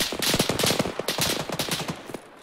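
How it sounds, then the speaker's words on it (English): Rapid automatic gunfire rattles in the military shooter game Arma 3, a dense burst of sharp repeated shots lasting a couple of seconds, loud and close. "I just took fire from my east again."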